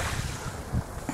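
Wind blows across the sea of Gökova Bay during a canoe trip, a steady rushing roar with buffeting against the microphone, and no talking.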